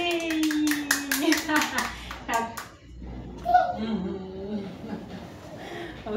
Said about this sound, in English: Clap for me, yay!